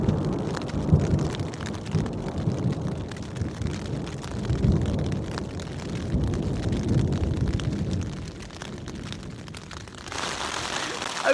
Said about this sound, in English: it's raining and it's thundering